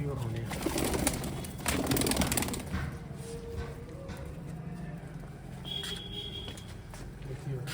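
Pigeons coo softly amid background bustle and indistinct talking, with some clattering sounds early on.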